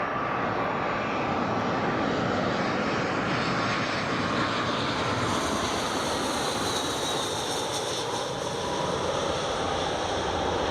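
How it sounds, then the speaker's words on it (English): British Airways Airbus A319 landing on runway 25 at Newcastle International Airport, a loud, sustained jet roar with whining tones that swells and shifts as the aircraft passes nearby, no voices. "here comes the British Airways A319"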